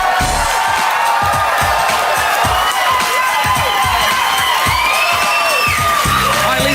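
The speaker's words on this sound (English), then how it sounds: "Please give a cheer for Lisa Ligon." A studio audience at a dating game show cheers and whoops for a contestant, loud and sustained, with bursts of shouting and scattered claps rising and falling throughout.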